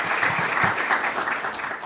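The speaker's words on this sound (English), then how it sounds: "Just another round of applause." Brief, steady applause from an audience at a Code for Earth final day event, a dense even patter of many hands clapping throughout with no voices over it.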